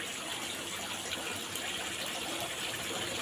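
Water flows steadily into a crayfish tank to keep it oxygenated, producing a constant nearby gushing rush with no talking.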